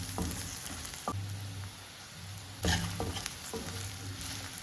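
Garam masala, chili powder, cumin and pepper fry in a pan with a soft, continuous sizzle, and a spoon scrapes and stirs the spices every second or so, close and quiet.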